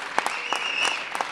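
Live audience reaction at a press event with mixed applause and noise, short bursts of clapping over steady crowd murmur; no distinct boo stands out.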